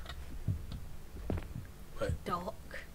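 A low, thudding heartbeat pulses under tense game audio in the Japanese horror game The Mimic, several soft beats with a voice speaking over them.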